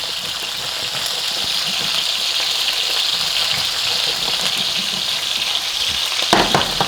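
Sun-dried tomato gnocchi toasting in a pan gives a steady, close sizzle with a continuous crackling hiss throughout and a small clatter near the end.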